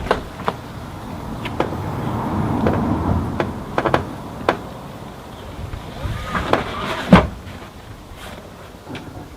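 Someone opens a Tuff-Trek hardtop roof tent on a vehicle: a run of clunks, clicks and creaks from the hinges and shell under steady wind noise outdoors, ending in a sharp latch knock.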